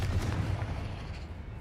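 A Confringo fire-blast spell cast in Hogwarts Legacy gives a deep, rumbling explosive burst that fills the whole clip at steady loudness, with no talk over it.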